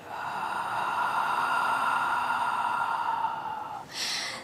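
Breathing during a Pilates lateral breathing exercise: a long, steady, airy exhale lasting nearly four seconds, close and fairly loud, followed by a brief sharper breath at the end.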